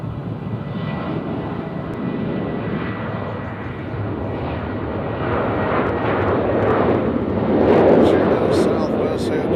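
A jet airliner roars at Nashville International Airport, a loud continuous engine rumble that swells toward the end, heard from a planespotting spot with no voices over it.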